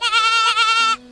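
An injured, bleeding baby goat bleats in two loud, close, wavering cries, then a short pause and the start of another cry.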